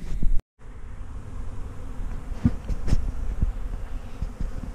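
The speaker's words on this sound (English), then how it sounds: "let's go out back and see what the bees are doing" Bees buzz out behind a barn, a steady close insect hum with individual bees whizzing past now and then, and a brief silent gap near the start.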